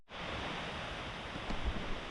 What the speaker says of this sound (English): So the waterfalls are definitely worth a look.